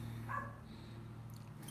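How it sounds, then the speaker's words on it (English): Dogs outdoors give a short, faint bark early on over a steady low hum, sounding somewhat distant, with no talking. "The dogs are barking."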